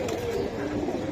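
Pigeons of good bloodline kept for sale coo steadily in a low, continuous murmur, a dense close chorus with no pauses.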